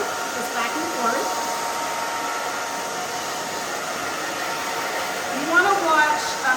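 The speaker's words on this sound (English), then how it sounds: "And the blow dryer, so you can see that moving" Handheld blow dryer running steadily while drying a freshly cut pixie haircut on thick or thin hair, a continuous close airy whoosh at even volume with slight swells as it is moved back and forth.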